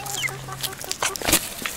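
Pet hens cluck and call close by in short, uneven bursts, a few sharper squawks standing out over a busy backyard background, with no talking.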